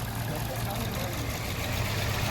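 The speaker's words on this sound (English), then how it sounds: "the car is warmed up and is sitting around 750, 730-ish RPM" A warmed-up car engine idles at about 750 RPM in an ignition systems lab before a power balance test, a steady low rumble heard up close with no change across the short stretch.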